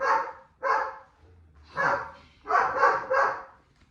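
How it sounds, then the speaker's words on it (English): A dog barks nearby in a home during a morning routine, with about six sharp barks in an uneven rhythm, some paired close together, fairly loud with no talking. "sometimes when the dog barks"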